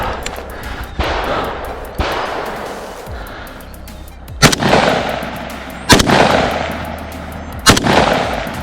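Loud gunshots at a shooting competition with steel targets at 200 yards, a series of about six sharp reports spaced roughly a second or more apart, each followed by a rolling echo outdoors in woodland.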